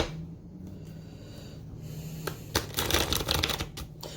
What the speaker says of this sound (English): I'm going to just do a shuffle